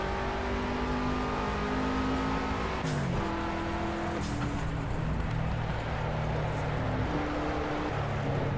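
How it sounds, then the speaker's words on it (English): Simulated Toyota GT race car engine in the Project Cars racing game at the Nürburgring, revving steadily with audible gear shifts and pitch drops, loud and continuous, with a tire squeal. "I'm in a Toyota GTS or something. It's this, it's this new Toyota, yeah."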